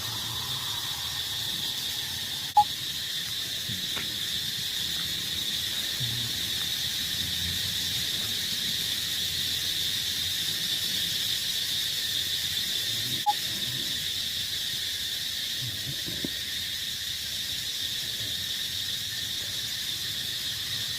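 Crickets and other insects trill in a forest estate surrounding a temple at dusk, a steady high continuous drone with occasional faint clicks and rustles beneath, no voices.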